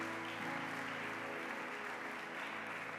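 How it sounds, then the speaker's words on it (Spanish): Church congregation clapping in praise during a sermon, a continuous even burst of applause throughout, with a faint sustained musical tone lingering underneath. "Dale un aplauso a Jesús."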